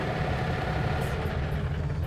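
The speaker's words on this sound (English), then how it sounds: "Now when we start our truck, we want to turn the key to half, let those gauges go all the way over and back, and then start the truck" A 2019 Freightliner M2 106 Sportchassis truck diesel engine running at a steady low idle just after starting, with a constant deep rumble and no voices.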